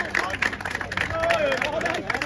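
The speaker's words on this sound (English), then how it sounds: "So a round of applause." A crowd at a Sunday league football match applauds the match officials: scattered hand claps mixed with background chatter, moderately close, with people talking throughout.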